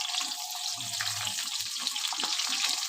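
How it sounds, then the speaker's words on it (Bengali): Eggplant pieces fry in a pan, making a continuous close sizzle flecked with small crackles and pops; nobody speaks. "চলো বেগুনটা একটু ভেজে নিই।"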